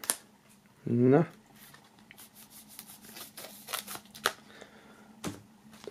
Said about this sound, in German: So, auch hier werden wir mal die Folie entfernen.